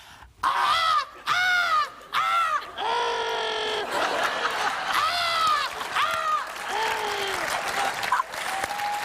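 A voice imitates seagulls squabbling over a chip on a beach, a run of loud, repeated squawking cries with short gaps, each call sliding in pitch, under a bed of audience applause and laughter.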